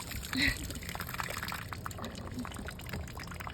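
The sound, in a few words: water flooding out of a hose fitting at the knob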